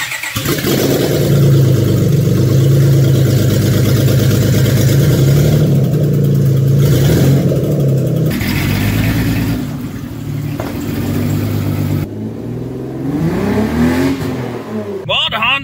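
A car idles and runs with busted, gutted catalytic converters and a flashing check engine light, a loud close engine drone with shifting tone and a few rev changes.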